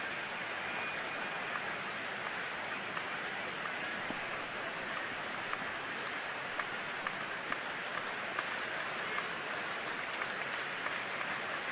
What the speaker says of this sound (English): Every time there's 2 strikes, somebody starts clapping.